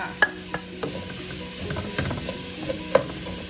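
Onion and celery sautéing in melted butter, a low steady sizzle broken by sharp clicking and scraping of a spatula against the pan at irregular intervals, close by with no talk.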